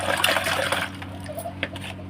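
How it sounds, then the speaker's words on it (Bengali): Water runs from a tap while a milk bottle is washed, a close splashing stream that is strongest at first and then thins to lighter trickles and drips. "আসছি দুধের বোতল ধুয়ে"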